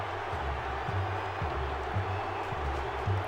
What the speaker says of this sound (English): The crowd is letting them hear it. The Boo Birds are out in full force.